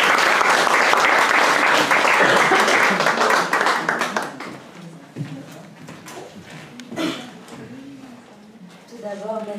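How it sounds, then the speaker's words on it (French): Audience applause following a formal speech introduction, a dense burst of clapping for about four seconds that thins into scattered claps, with a speaker's voice taking over afterward. "je vais vous demander de l'applaudir bien fort."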